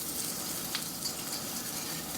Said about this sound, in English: Get that sizzling.